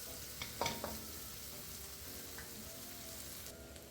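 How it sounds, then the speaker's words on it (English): Onions sizzle quietly in a pan for a tomato, double onion and smoked paprika soup, with a soft, even fry and a few brief stirring clatters near the start. "we're going to cook our onions for about 5 minutes before adding the herbs and the spices"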